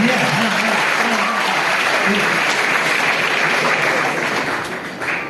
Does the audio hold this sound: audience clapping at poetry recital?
yes